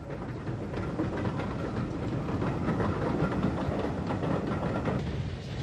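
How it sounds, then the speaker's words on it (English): Steam locomotive UG number 47 hauling a train past Tilliesburn between Belfast and Holywood, a steady rumbling roll with rhythmic clickety-clack of wheels on rail joints, fairly close and continuous throughout. "Near Tilliesburn, between Belfast and Holywood, UG number 47 heads towards the city"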